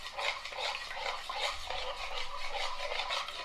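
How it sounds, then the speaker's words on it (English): A spoon stirs a homemade ice cream mixture in a bowl with vanilla extract, a steady close scraping and swishing that goes on without a break and without talk. "you wanna mix it with a spoon"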